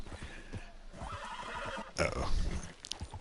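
A horse in the Red Dead Redemption 2 video game whinnies loudly in a long rising neigh, with hooves clip-clopping beneath it and a second snort near the end.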